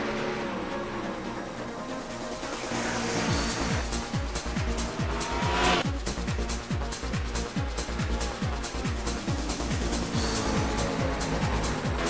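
Pack of race cars at Martinsville in a racing video game roars off at the start, loud engines with rapid repeated gearshift surges and revs stacking up, a dense continuous wall of engine noise.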